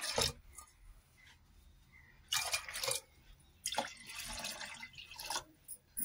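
Water pours into lentils in a few separate splashy bursts, close by, with quiet pauses between them and no talking.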